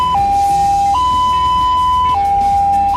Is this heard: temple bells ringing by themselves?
no